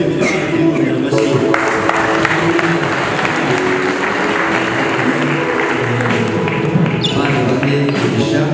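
Wedding guests applauding at a celebration, a dense wash of clapping from a crowd mixed with murmuring voices, sustained and fairly loud throughout.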